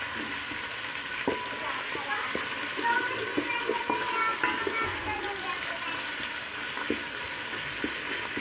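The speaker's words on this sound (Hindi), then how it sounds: "अब इसमें जो है अदरक लहसुन का पेस्ट हम डालेंगे।" Browned onions and ginger-garlic paste sizzle and crackle steadily in a pot, with occasional stirring scrapes and a voice talking quietly over the frying.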